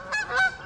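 Geese honk near a fishing spot in two loud, close, nasal honks in quick succession, heard alone.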